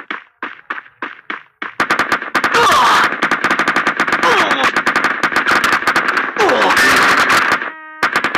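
Rapid automatic gunfire from a Free Fire mobile battle game, loud sustained bursts of many shots running nearly continuously after a few opening single shots, with game effects mixed in.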